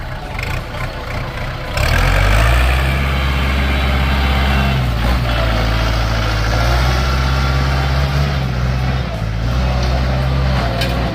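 A Kubota L4708 tractor's 47-horsepower four-cylinder engine starts up and runs with a loud, close, steady low rumble that holds throughout.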